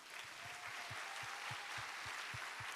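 Audience applause at the opening ceremony of an international climate industry expo, a steady wash of clapping with a faint rhythmic low thumping underneath.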